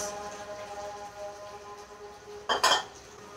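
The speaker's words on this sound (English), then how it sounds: "Mash it nicely. Mix it evenly." A spoon mashes and mixes a finely chopped onion mixture in a bowl, soft scraping followed by one short, louder clink of metal against the bowl near the end.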